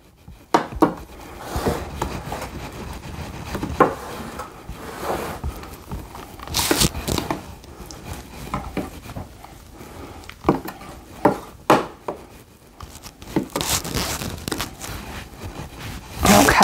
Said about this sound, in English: I'm just gonna use a spoon and kind of spread it around in the pan